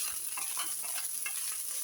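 Two-day-old leftover rice frying and being stirred in a pan, a steady close sizzle with soft scraping stirs throughout and no voices.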